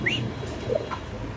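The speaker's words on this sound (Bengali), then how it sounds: "খুব সুন্দর কালারের বোখারা কবুতর আল্লাহর রহমতে" Soft cooing and short calls from Bokhara pigeons kept for sale, a few brief, fairly quiet notes over a faint background hum with no one talking.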